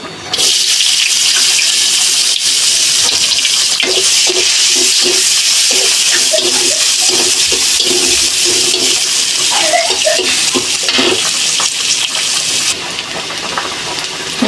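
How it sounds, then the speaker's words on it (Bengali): Onions hitting hot oil in a wok (kadai) while a dried-fish curry is being cooked: a loud, steady, broad sizzle that holds throughout, with a few faint clinks. "তেল গরম হয়ে গেছে, এখন পেঁয়াজ দিয়ে দেবো"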